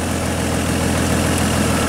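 A GM truck engine idles with a constant cylinder misfire, giving a loud, close, low rumble with a steady, slightly uneven pulsing throb and no voices.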